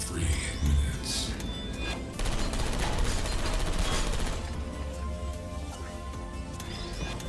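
Sustained automatic gunfire from turrets in the video game Portal Stories: Mel, a dense, loud rattling barrage running through the whole stretch with crashing impacts near the start.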